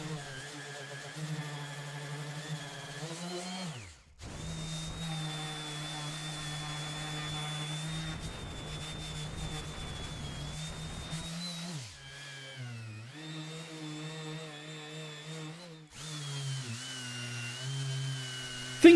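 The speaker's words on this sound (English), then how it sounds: "I'm gonna leave you guys with a little bit of a sanding montage" A power sander works across an oak and epoxy table, a steady humming whine that wavers in pitch as pressure changes, broken by brief stops and restarts.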